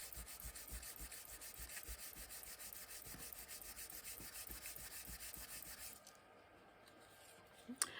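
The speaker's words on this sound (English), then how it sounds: "I'm just going to rub over with this polishing cloth." A polishing cloth rubs over a penannular metal brooch in close, quiet, rhythmic scrubbing strokes that stop near the end, followed by a small knock.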